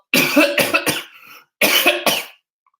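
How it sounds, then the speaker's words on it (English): A person coughs in two rough bursts, several harsh coughs each, close and loud, with a short silent gap between. "Have a coughing fit. Just a little."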